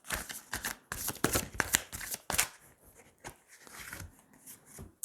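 Tarot cards are shuffled, slapped down and handled in a quick, irregular run of close crisp flicks and rustles, with pauses between bursts.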